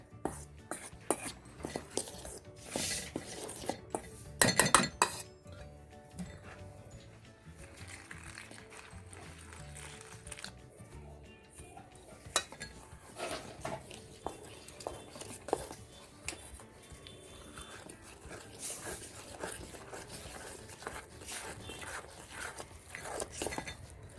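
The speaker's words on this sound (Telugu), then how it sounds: "నీళ్ళు వేసి కలుపుకోవాలి" Wet stirring and scraping of boondi batter and water in a bowl, with repeated clinks of a utensil against the sides, steady and close throughout.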